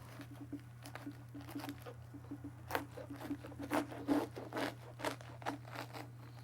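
A knife cuts through green cabbage in a kitchen, giving several crisp crunching and scraping strokes, louder toward the end, over a steady low hum.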